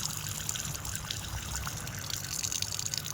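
Tap water runs and splashes while guava leaves are rinsed by hand, a close, steady trickle with small irregular splashes and no talking.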